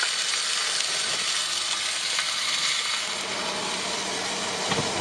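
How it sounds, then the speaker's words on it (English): Steak sears in a very hot pan with a dense, continuous sizzle that stays loud and even throughout, with faint clicks and scrapes. "make sure the pan is really hot and pop it in and wait for it to cook"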